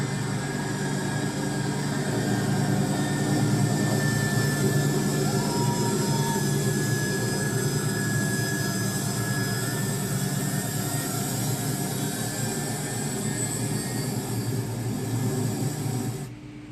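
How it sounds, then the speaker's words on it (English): American military jet aircraft taking off, a steady, loud, roaring whine and hiss from the engines that holds throughout before dropping off at the very end. "On your screen is the moment when one of these American planes took off."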